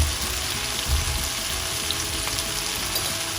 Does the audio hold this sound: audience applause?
no